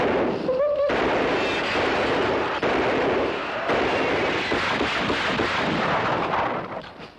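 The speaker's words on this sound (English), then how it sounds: "I got him, stop. He's shot clean through, Judd." A burst of gunfire in a western shootout rings out near the start, followed by a sustained dense roar of shots and commotion that carries loud and steady before fading at the end.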